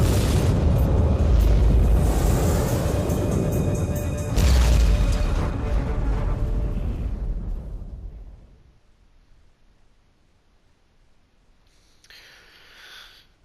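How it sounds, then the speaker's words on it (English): Automatic defense turrets firing in the game Warhammer 40,000: Inquisitor, heavy booming blasts and rumbling explosions rolling on for several seconds, a second big blast midway, then fading to near quiet before a brief burst of crackle. "Inquisitor, the automatic defense system has been activated. The turrets are attacking you."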